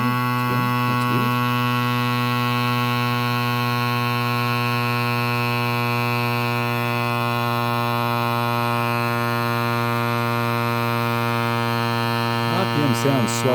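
A Coospo X1 electric bike pump's motor runs with a constant, loud, droning electric hum, steady throughout with only faint clicks near the start and end.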